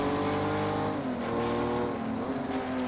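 Racing cars in Project Cars 2 brake hard into turn 2 at Ruapuna Park, with loud engine whine dropping in pitch as they slow, continuous and close.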